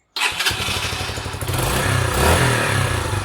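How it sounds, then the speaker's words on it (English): A Sinnis SC125 motorcycle engine revs up close and loud, stuttering and clattering as too much throttle makes it falter and threaten to cut out, with uneven surges in the engine note. "Get too much throttle too quick, it just cuts itself off."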